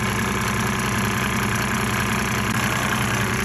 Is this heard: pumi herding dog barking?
no